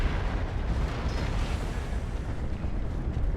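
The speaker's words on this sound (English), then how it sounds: "These guys blowing up on their own mines." Infantry units blowing up on their own mines in Dawn of War 2, heard as a dense rumbling wash of battle explosions and gunfire, continuous and moderately loud with no distinct single blast.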